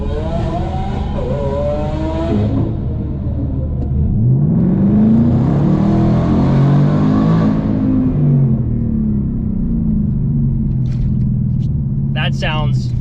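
A Ford Mustang engine revs hard on a wooded backcountry road, a loud rising roar that climbs, holds and then fades away, with a brief voice near the end.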